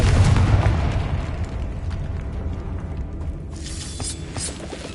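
A Confringo blasting spell detonates in a magic video game, a loud booming explosion at the start that decays into a rumbling, crackling tail, followed by faint mechanical and sparkling effects.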